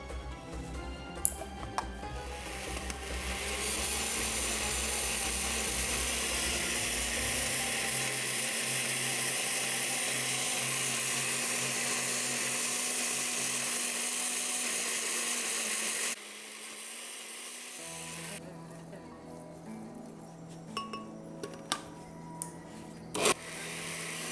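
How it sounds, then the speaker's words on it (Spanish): A blender whirs loudly and steadily while blending hummus, cuts out briefly, then restarts at a lower pitch, with a few light knocks near the end. "Cuando es en su licuadora, como les dije, no en la trituradora, al inicio van a tener que moverlo un par de veces para que se incorporen bien y seguimos batiendo"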